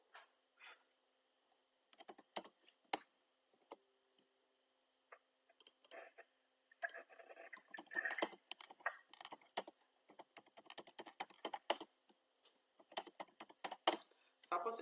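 Someone types text for a Facebook post on a computer keyboard, with sparse, irregular keystrokes at first, then denser, faster bursts of close clicking in quiet surroundings, with no talking.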